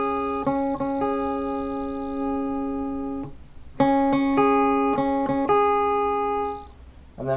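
Electric guitar picking a slow two-note pattern for a song, repeated plucked notes with a pause midway, ringing sustained tones played alone and close.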